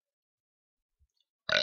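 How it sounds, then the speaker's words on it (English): A short, sudden burp from a person after quickly eating noodles, loud and close, following near silence. "Hold on, I might burp because I ate those noodles pretty quickly."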